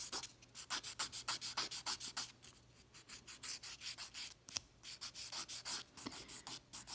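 Cured gel nails being filed to taper the sides, a steady rhythmic back-and-forth rasping of the file stroking close and clear, with a few brief pauses between runs of strokes.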